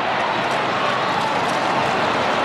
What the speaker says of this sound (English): Huge crowd here at Amy Stadium.